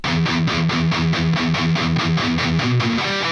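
A heavy distorted electric guitar chugs the palm-muted verse riff of a song in rapid, even downstrokes, loud and alone.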